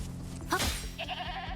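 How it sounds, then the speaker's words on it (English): A goat bleats once in a video game, a short wavering nasal cry over a low steady background hum, with faint game sounds afterward and no talking. "It's a fucking goat."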